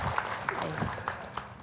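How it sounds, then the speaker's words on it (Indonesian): Audience clapping on an Indonesian studio talk show, scattered and moderate, with individual claps popping out over a soft room murmur and some talk underneath. "Ibu-ibu tepuk tangan lagi"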